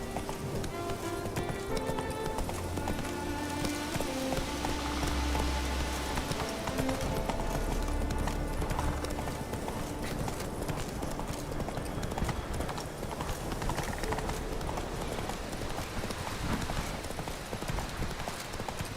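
Galloping hooves of a horse in the Witcher 3 video game, a steady rapid clip-clop running throughout with layered game music and ambience beneath.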